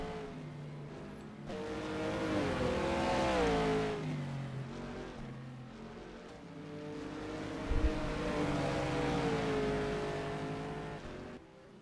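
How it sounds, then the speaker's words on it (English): A race car slides sideways over curbs on a damp Nordschleife in light rain during a 12-hour race, its engine note rising and falling through sustained revs, fairly distant and steady. "He is going sideways and going over all curbs and stuff"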